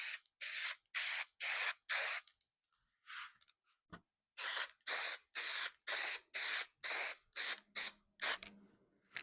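Spray can applying a light coat onto an object, a series of short hissing bursts in two groups separated by a pause with a click, close and loud, no talk.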